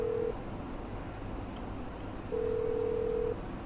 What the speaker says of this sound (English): let's dial the call